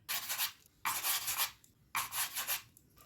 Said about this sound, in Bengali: এরকমভাবে হাতের সাহায্যে সরু সরু করে পাকিয়ে নিলে খুব তাড়াতাড়ি চুষিগুলো কাটা হয়ে যাবে